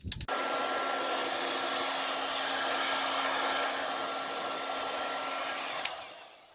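A heat gun blows a steady, loud whooshing roar while warming the top of a plastic strawberry planter, running continuously before clicking off near the end, with no talk.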